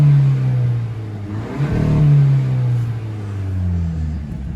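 A 2021-2025 Hyundai Elantra N Line fitted with a cold air intake revs in sport mode. A close, loud engine drone swells sharply into a rev partway through, then settles back to a rumbling idle.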